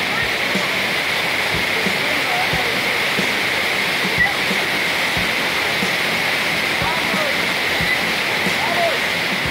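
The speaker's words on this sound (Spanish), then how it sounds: "estamos sobre la cabecera de una de las cascadas más altas" A high waterfall roars from its head in a constant, dense rush of falling water, with a voice speaking over it.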